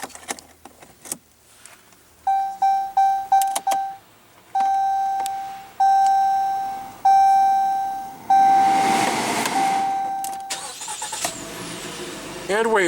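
A 2016 Jeep Cherokee with push-button ignition and a 2.4 L inline four-cylinder: a string of clear electronic chimes beeps from the cabin, then the engine cranks and catches with a loud, rough burst before settling.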